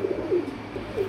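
A pigeon gives soft, repeated low coos in a short rhythmic series, close and fairly clear against light background noise.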